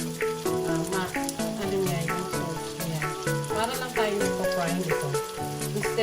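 Chicken pieces for afritada go one by one into a hot pan with onions, giving a close crackling sizzle that flares in short bursts as each piece lands, over background music with tonal notes.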